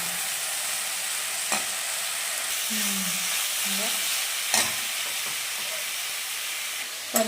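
Ingredients frying and being stirred in a pan while making chutney, a steady broadband sizzle running throughout with a few sharp scraping clicks from the stirring.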